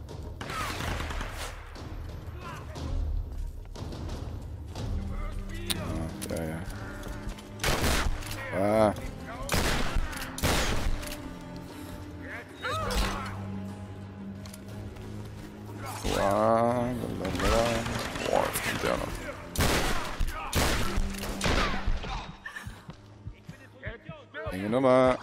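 Gunfire from the 2013 Tomb Raider video game, with repeated sharp shots and bursts of fire spread across the span amid game effects, while a player talks over much of it.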